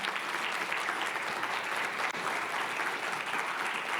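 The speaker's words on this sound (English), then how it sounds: "a big round of applause to them" A conference audience applauds in a sustained, even wash of clapping, moderately distant and steady throughout.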